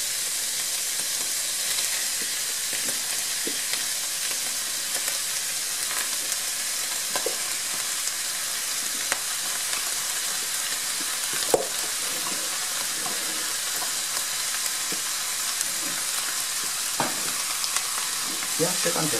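Barley groats sizzle and crackle in a hot frying pan as they are stirred, a steady broadband fry with scattered scraping and clicking taps from the utensil, close and continuous with no talking.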